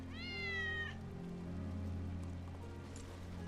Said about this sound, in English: Hear that? That's Wedge's cat.